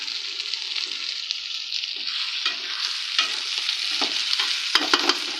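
Onions that have fried to golden in a pan as tomatoes go in for a prawn dish, a steady bright sizzle with scraping stirs and occasional clicks of a utensil against the pan, no talking.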